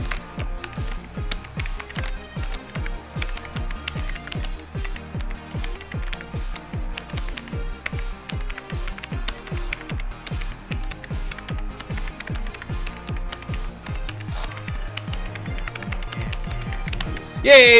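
Rapid, dense keyboard clatter from someone playing the game Frog Fractions, a steady stream of fast keystrokes running throughout at close range over busy game music and effects.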